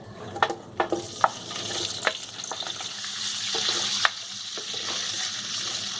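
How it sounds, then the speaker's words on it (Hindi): Green chillies fry with spices in a pan for hari mirch salan, a steady close sizzle broken by several sharp spoon clinks and stirring knocks early on. "दो मिनट हम हरी मिर्चों को फ्राई करेंगे"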